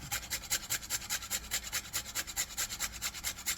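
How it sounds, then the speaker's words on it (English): Whole nutmeg grated on a rasp: a quiet, steady rasping scrape in fast, even back-and-forth strokes, several per second, close by with no talking. "I'm going to take my rasp, and I'm going to grate this entire nutmeg."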